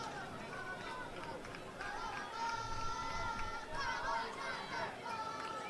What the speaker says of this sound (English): You can hear the cheering